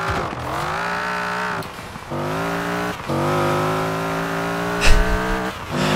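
Jeep CJ5 fitted with a Viper V8 engine, driven in Forza Horizon 4, roars loudly and continuously through several rising gear pulls with brief dips between shifts and a short tire squeal, no talk.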